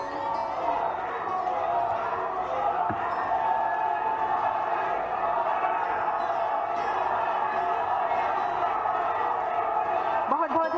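Steady crowd noise and applause in a large gathering welcoming the Prime Minister at a cancer hospital inauguration ceremony, a continuous dense wash with faint cheering and voices mixed underneath.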